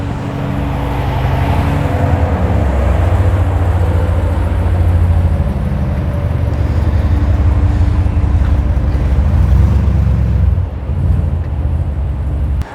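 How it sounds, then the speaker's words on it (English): Ram TRX twin-charged pickup, supercharged and turbocharged, idling or running steadily as a loud, continuous low rumble in the background for the whole stretch, with a brief dip near the end. "It is our Ram TRX twin charge, meaning supercharged and turbocharged."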